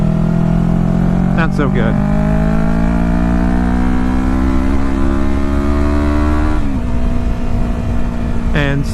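A 2016 Yamaha R3 motorcycle accelerates through its gears, the engine note climbing steadily with brief dips at each shift, loud and close, while a rider talks over it.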